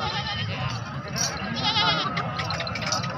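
A goat bleats in short wavering cries close by, repeated over a few seconds amid background chatter and other noise.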